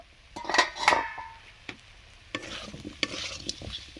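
Kakrol and prawn curry stirred in a pan, a couple of scraping strokes early on, then softer spoon scrapes over a faint sizzle, close and moderately quiet.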